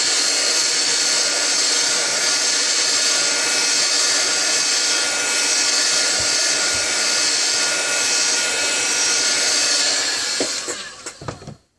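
A hot-air tool, sounding like a hair dryer, blows steadily on the glass of a Samsung Galaxy S3 being heated for repair, a loud continuous broadband whoosh that cuts off abruptly near the end.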